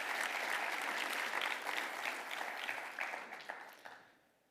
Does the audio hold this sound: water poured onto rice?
no